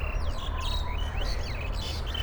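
Many birds sing and chirp outdoors around an open-air yoga class, a busy overlapping chorus of bright tweets and trills over a constant low hum, with no talking.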